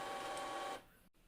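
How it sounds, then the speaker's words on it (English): An Epson printer converted for sublimation ink whirs steadily as it initializes, a loud mechanical hum that cuts off sharply after under a second, leaving a quiet room tone. "While the printer is initializing"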